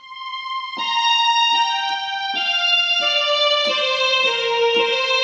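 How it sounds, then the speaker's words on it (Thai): Smooth, sustained string tones from a Casio CTK-4200 keyboard hold a high note while lower notes step downward, soft and continuous. "เป็นเสียงสตริงนะครับ"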